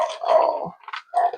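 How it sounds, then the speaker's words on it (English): A dog growls close by in two short, throaty bursts separated by a brief pause, loud and alone with no talking. "Sorry about the dog."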